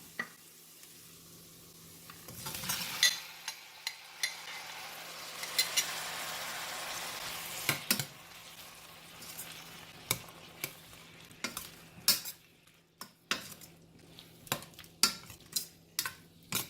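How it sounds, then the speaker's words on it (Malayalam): Tomatoes drop into a hot pan for tomato rice, bringing a burst of sizzling, followed by a run of sharp spatula knocks and scrapes against the pan over a low frying hiss. "നമുക്കിനി ഇതിലേക്ക് ടൊമാറ്റോ ഇട്ട് കൊടുക്കാം."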